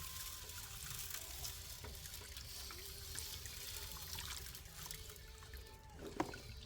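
Water runs steadily through a gold high banker while it is rinsed out, a soft, continuous trickling wash with a brief clunk near the end.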